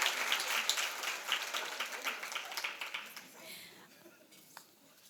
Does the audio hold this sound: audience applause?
yes